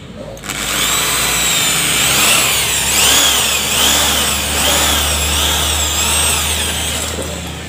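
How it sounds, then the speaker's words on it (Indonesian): A handheld power drill bores a hole close by, its loud motor whine rising and falling in pitch for several seconds with a faint voice underneath. "Nah, jadi kita bor saja di sini. Ini kita lubangin segini nih. Kita bor."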